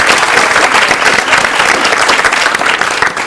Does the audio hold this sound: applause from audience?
yes